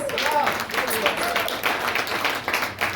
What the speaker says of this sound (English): Clap for my hoes out in the crowd tonight.